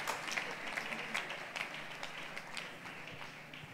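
A church congregation at a consecration and installation ceremony applauds in a faint, distant, continuous patter with scattered louder claps.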